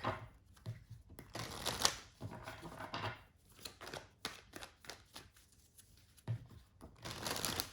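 Tarot cards are shuffled and drawn from a deck, with soft riffling, flicking and slapping bursts coming in irregular clusters, fairly close and quiet, with no talk over them.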